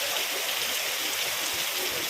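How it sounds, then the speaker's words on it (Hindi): Steady, dense rainfall hissing evenly on surfaces, close and continuous with no pauses or other sounds. "रेनिंग हो रही है ना"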